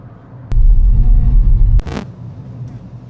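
Grand Vitara Hybrid driving on a road at speed, a low engine and road rumble that swells loudly for about a second, then drops back, with a sharp click and a brief rushing burst near the end.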